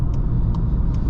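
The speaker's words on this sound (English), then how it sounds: "you can hear the nice little downshifts" A 2023 Volkswagen Jetta GLI engine rumbling close by, low and steady, with brief shifts in its pitch as it downshifts.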